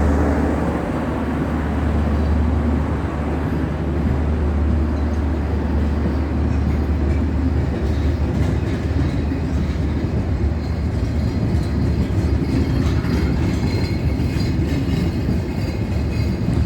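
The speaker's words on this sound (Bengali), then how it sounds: "সীমান্ত ট্রেন।" Simanta Express passenger train at Ishwardi station at night, a loud continuous rumble and rattle of wheels and carriages holding steady for about seventeen seconds with no talking.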